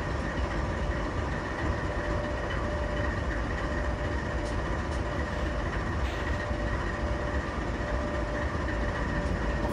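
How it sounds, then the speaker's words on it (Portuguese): Train rolling down a track through a rail yard during shunting in the Open Rails simulator, a steady continuous rumble with a faint rhythmic rail clatter, sustained and even throughout, no voices. "Agora o trem vai descer pela linha,"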